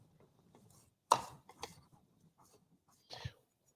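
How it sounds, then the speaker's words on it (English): A chef's knife chops down through a jalapeno on a cutting board, making a few quiet, sharp taps with gaps between them and faint murmuring in the background. "I'm gonna go the opposite direction, and I'm gonna get it diced up"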